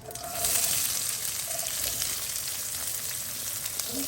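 Mustard and fenugreek seeds fry in sesame oil for a South Indian tamarind curry, giving a steady, close sizzle with light crackling and popping throughout.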